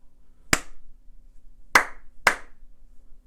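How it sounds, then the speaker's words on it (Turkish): Three sharp, isolated hand claps in a rhythm exercise, one then two in quicker succession, close and clean against a quiet room. "Şimdi alkış da yapıyorum."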